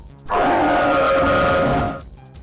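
Reshiram's older cry from a Pokémon game: a single loud, harsh roar about two seconds long, heard alone with nothing around it.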